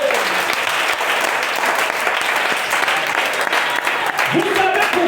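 A church congregation applauds in a loud, continuous burst of clapping that fills the whole stretch, dense and steady with a few voices mixed in underneath.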